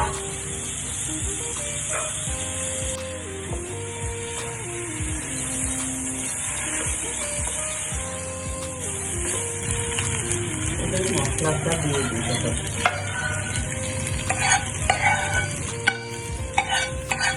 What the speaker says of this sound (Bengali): গরম তেলে পোলার চাল ছেড়ে দেওয়া হলো এবং এই তেলের মধ্যে পোলার চালগুলোকে ভালো করে ভেজে নেওয়া হবে